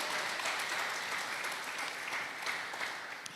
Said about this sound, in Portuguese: Queria que você aplaudisse Jesus por isso.